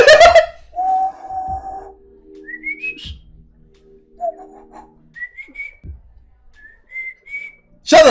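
Someone whistles a series of short, rising tonal notes with pauses between them, interspersed with a few other tones and soft background sounds, close and clear with no speech.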